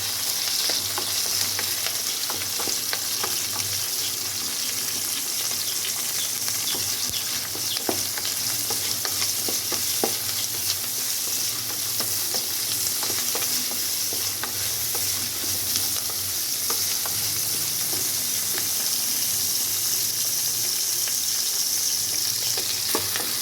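Green chilies and fresh curry leaves sauté in hot oil in a pan, a loud continuous sizzle with occasional stirring scrapes and no talking.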